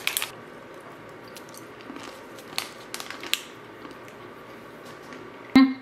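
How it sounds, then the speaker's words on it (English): Tropical trail mix with banana chips and coconut flakes being chewed up close, a quiet run of crisp crunches in short bursts followed by one louder crunch near the end. "I love banana chips. It's one of my favorite kind of crunchy sweet snacks."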